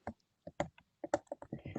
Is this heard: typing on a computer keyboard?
yes